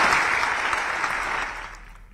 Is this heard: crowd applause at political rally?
yes